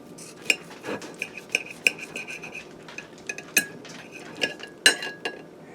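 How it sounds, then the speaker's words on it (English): Knife and fork clink and scrape against a plate while cutting into a pressure cooker smoked steak served with home fries and peas. Scattered, close, sharp metallic taps and scrapes, with no talking. "So let me cut into the steak and we'll see how it looks"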